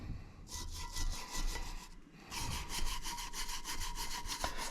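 Valves on a Ford 460 cylinder head are lapped with a rapid back-and-forth rubbing, a quiet rhythmic gritty scrubbing at close range that pauses briefly and then resumes.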